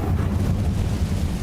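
A fire spell cast in a wizarding video game set at Hogwarts, heard as a steady low roaring whoosh, loud and continuous like a burst of flame, with no talk over it.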